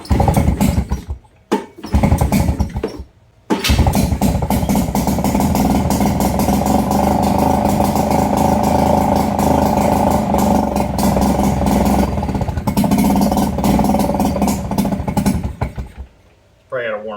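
A 2-stroke outboard engine on a jon boat runs loudly and steadily at a first start, with a few sputtering bursts before settling into a continuous raspy drone, then cutting out near the end.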